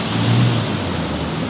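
A Toyota Fortuner 4x4 pushes through deep water, its engine droning low and loud while water rushes and churns close around the vehicle.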